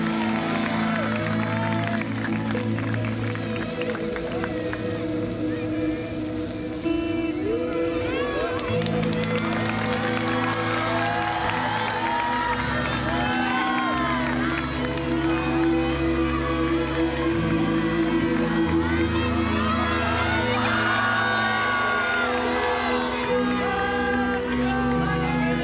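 A large crowd at a religious procession claps and cheers in a long, continuous wash of applause, with voices and babble mixed in.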